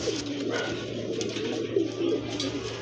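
A held pigeon gives low cooing calls close up, a few soft repeated coos over a steady background hum.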